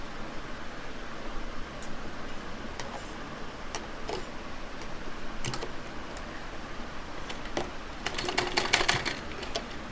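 A sewing machine runs steadily while stitching a side pocket onto palazzo pants, giving a soft continuous mechanical patter with small ticking clicks and a slightly busier burst near the end.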